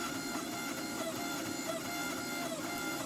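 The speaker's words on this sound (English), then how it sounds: "I'm going to hydraulic press. I'm going to slowly draw it out. I'm only going to be using the squaring dies" A hydraulic press slowly drawing out ball bearing Damascus steel with squaring dies gives a steady, loud mechanical hum and whine that continues evenly throughout with no break.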